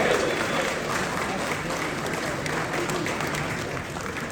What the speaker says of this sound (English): There's one person trying to start a round of applause there.